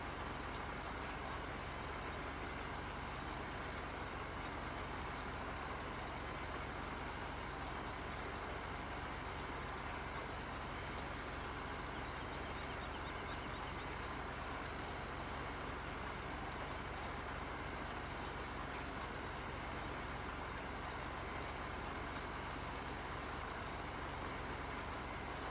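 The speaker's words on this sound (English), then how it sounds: "actually what we're gonna do, we're gonna hop back in the tractor" A tractor engine drives in Farming Simulator 17 on the Oregon Springs map, giving a steady, loud, continuous broadband drone with no talk over it.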